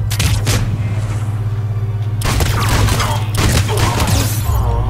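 Enemy gunfire and booming impacts fill a firefight in Mass Effect 3 at a Cerberus fighter base, loud and continuous over a steady low rumble, with sharp bursts of shots and blasts recurring throughout.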